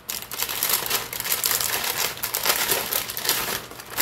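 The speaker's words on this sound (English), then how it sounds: "I'm just going to dump the entire bag in of green beans." A full bag of green beans tumbles into a crock pot, giving a steady run of crinkly plastic rustling and rattling that lasts several seconds at moderate volume, with no talking.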